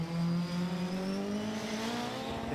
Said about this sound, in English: You can just hear how the engine just winds up ready to go